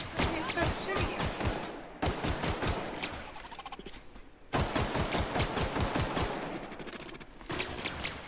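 Gunfire in The Outer Worlds, with rapid repeated shots in quick rhythmic bursts, loud and close, broken by brief pauses.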